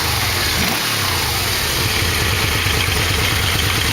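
Yamaha V-Max motorcycle engine running after a carburetor sync, a steady close mid-pitched idle with slight rises in revs, heard alone.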